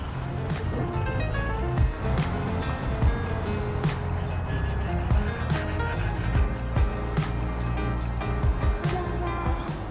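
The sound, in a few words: sharpening a Japanese hand plane blade on a whetstone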